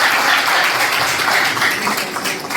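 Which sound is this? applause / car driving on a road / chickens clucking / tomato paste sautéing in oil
applause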